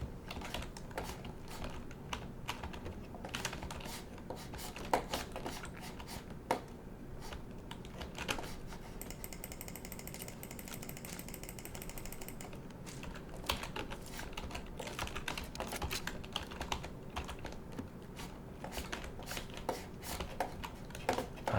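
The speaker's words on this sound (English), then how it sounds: "now you get to hear all of the keyboard sounds" Computer keyboard typing runs steadily for about twenty seconds, dense clicking keystrokes in bursts at moderate level with no talking over it.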